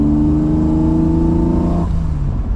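A BMW E28 with an M30 straight-six on individual throttle bodies, full exhaust and standalone ECU revs hard, its tone climbing loud and close before dropping off near the end.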